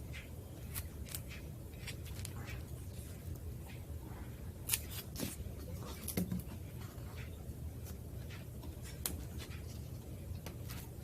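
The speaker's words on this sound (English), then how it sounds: "Then I'll cut like any extra off that I don't want." Scissors snip away excess paper from a book page for dollar-store Halloween decorations, with scattered crisp cuts at an uneven pace over quiet room noise and no talk.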